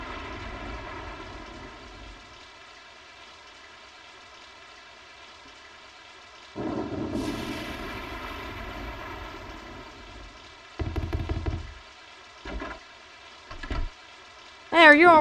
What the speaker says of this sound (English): It's beginning to be quite a storm!